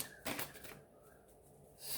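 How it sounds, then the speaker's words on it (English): Oversized tarot cards are shuffled by hand in two short papery bursts, close and fairly quiet, with a brief pause between them. "they're a bit hard to shuffle because of the size"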